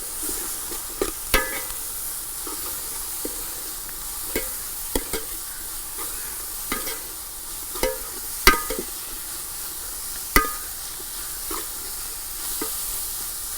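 Tomatoes sizzle quietly with sautéed onions in a pan for a Kerala prawn roast, with a soft steady fry and scattered sharp clinks and scrapes of a spoon stirring at irregular intervals.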